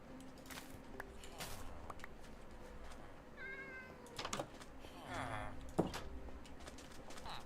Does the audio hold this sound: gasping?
no